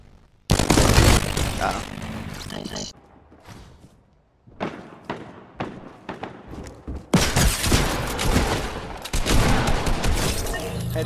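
Gunfire in a shooter video game, loud bursts of shots and heavy thuds in several separate volleys with short gaps between them, and a voice speaks briefly between the shots.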